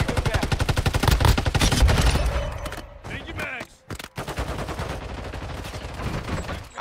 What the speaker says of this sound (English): Shooting at my man.